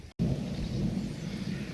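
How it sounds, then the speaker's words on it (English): Rain falls outdoors during windy weather, a steady close hiss with low rumbling, briefly interrupted by a cut at the start. "Raining a little bit harder now."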